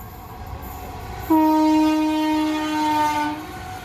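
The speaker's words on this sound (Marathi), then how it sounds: "चला, आपली ट्रेन तर आली." A passenger train pulls into a station near Pen in Hamrapur, its loud, steady two-tone horn sounding for about two seconds over a rumbling rail-yard background, with no talking.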